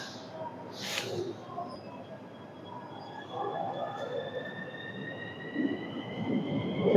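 A metro train pulls away from the narrow platform at Piața Romană station. Its rumble builds gradually and the motor whine rises in steady tones, moderately loud, with a brief hiss near the start.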